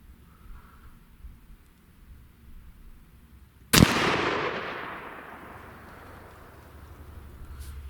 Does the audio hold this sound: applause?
no